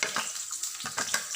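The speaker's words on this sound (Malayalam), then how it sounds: "സവാള ഇട്ടിട്ട് വഴറ്റാം." Sliced onion sautéing in hot coconut oil in a pan gives a steady close sizzle, with a few louder crackling bursts as it is stirred.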